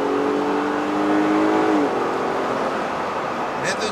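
A Jeep Gladiator on a test drive, its engine winding up toward a redline just over 6000 rpm and then dropping pitch at the gearshift, heard from inside the cabin with a muffled, steady road drone and a voice faintly present.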